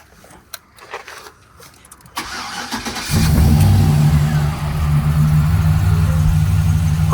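After a few quiet clicks and rustles, an LS-swapped Chevrolet Caprice engine cranks and catches, then runs on as a steady, loud idle up close.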